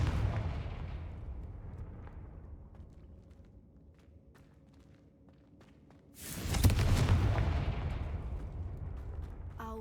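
Confringo fire curse cast in Hogwarts Legacy: after quiet game ambience, a sudden loud fiery blast erupts and is followed by a sustained roaring rumble.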